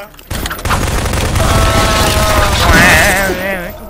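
Rapid bursts of gunfire and booms in the zombie horror video game Hell's Prison, loud and continuous with mechanical clatter, while players talk and shout over it.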